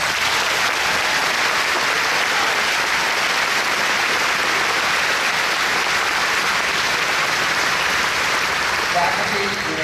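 Commencement audience at a Trine University Class of 2015 ceremony applauding the graduating schools, a dense, loud, sustained wash of clapping from a large crowd that continues evenly throughout.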